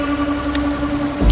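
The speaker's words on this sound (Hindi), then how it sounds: "मूसलाधार बारिश भी शुरू हो चुकी थी।" Heavy, torrential rain in a dramatized horror story, a steady dense hiss of downpour filling the whole moment with no voices over it.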